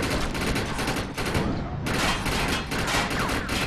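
Gunfire in the shooter video game Defiance crackles in dense, rapid bursts that nearly fill the moment, with one brief gap before the shooting resumes.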